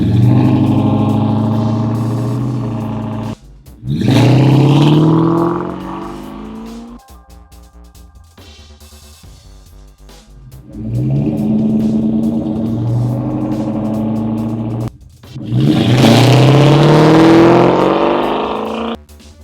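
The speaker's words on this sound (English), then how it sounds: "we just installed a set of Varitune mufflers with the full catback, along with a Brentech X pipe." A 2003 Mustang Mach 1 with Varitune mufflers, full catback and X pipe revs loudly on a street, with repeated long throttle blips separated by lower idle stretches.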